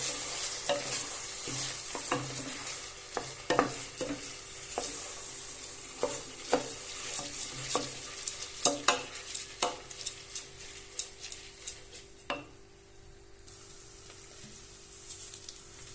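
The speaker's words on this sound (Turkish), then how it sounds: "Şimdi bol suyla yıkadığım kırmızı mercimeğimizi de birazcık kavuralım." Washed red lentils stirred and dry-roasted in a pan for a Turkish restaurant-style strained lentil soup, with a soft sizzle and repeated sharp spoon scrapes and clicks against the pan, close and steady.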